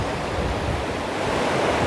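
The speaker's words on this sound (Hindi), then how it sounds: "ये पानी है कैसा, पूरा झाऊ झाऊ झाऊ झाऊ कर रहा है" Water rushes loudly and continuously at the Basantpur picnic spot waterfall in Simdega, Jharkhand, a broad, roaring wash of noise, close and steady, with no talk over it.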